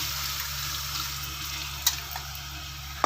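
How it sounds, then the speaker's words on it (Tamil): Water is poured into a pot of sardine fish curry with tamarind extract, making a steady, continuous splashing pour with a few small clinks, close up and with no talking. "இப்போ தண்ணி சேர்த்துக்கலாம்"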